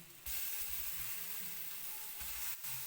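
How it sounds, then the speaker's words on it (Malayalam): Chicken pieces drop into a hot pan with tomatoes and start sizzling, a steady close fry broken by a few soft thuds and a brief scrape of stirring. "ഇനി ഇതിലേക്ക് നമ്മൾ റെഡിയാക്കി വെച്ചിരുന്ന ചിക്കൻ്റെ പീസസ് ഇട്ട് കൊടുക്കാം"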